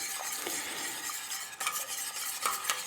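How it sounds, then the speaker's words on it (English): Ice cream custard mixture being whisked steadily in a pot, a continuous brisk scraping and swishing with small clinks, close and alone. "And I'm going to keep this whisking."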